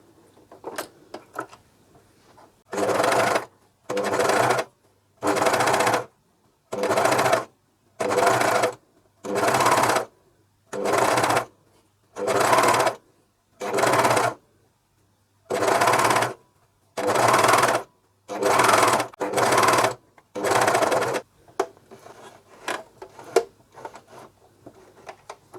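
A Juki MCS1 coverstitch machine sews a pocket in about thirteen quick, evenly spaced bursts of close, loud mechanical whirring, separated by brief pauses.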